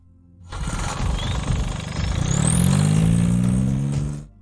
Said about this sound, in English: The symphony of vibrations in a diesel engine is what gives it its characteristic sound